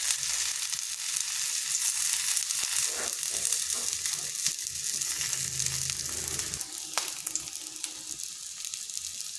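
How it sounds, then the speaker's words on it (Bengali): Semolina pieces fry gently in two spoons of oil on low heat, giving a steady close sizzle with soft crackles and occasional pops throughout. "এভাবে হালকা আঁচে একটু ভেজে নিচ্ছি"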